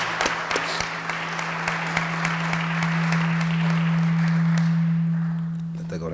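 Sustained applause fills a banquet hall at a 2016 Hall of Fame induction, honoring a former teammate. Dense clapping with sharp individual claps rises and swells, then fades near the end over a steady low electrical hum.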